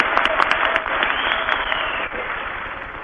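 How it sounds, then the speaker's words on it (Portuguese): Sustained applause from a large crowd honoring Ulisses Guimarães at a Brazilian political event, dense steady clapping that stays loud for the whole stretch with a slight dip near the end. "Por isso, tanto aplauso para Ulisses Guimarães."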